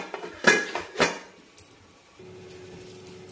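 A metal lid clanks onto a cooking pot twice with sharp ringing clinks, followed by a softer tap and then a quiet low hum.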